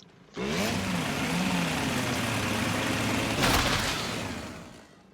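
A chainsword from Darktide roars to life and revs in one sustained, loud, grinding mechanical whir, holding steady with a brief surge near the end before dying down, no voices.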